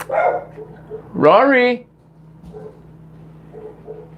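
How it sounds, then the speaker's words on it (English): Dogs barking indoors at someone walking outside, a short burst of sharp barks partway through, with someone talking over the room before and after. "Somebody's walking outside, so then my dogs feel like they need to bark about it."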